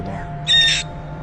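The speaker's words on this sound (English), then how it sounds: "Look at the screams, the high-pitched screams." A parrot lets out a single short, harsh high-pitched scream, loud and close, over a low steady hum.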